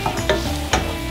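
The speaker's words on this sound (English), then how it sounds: "Now we're adding the onions into the fat and the bacon." Onions frying in bacon fat in a pan, a soft steady sizzle broken by a few brief scraping stirs, with no talking.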